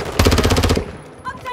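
Automatic gunfire on the Rebirth Island battle royale map in a shooter game: a rapid burst of about a dozen loud, close shots in quick rhythm, cutting off abruptly, followed by quieter game sounds.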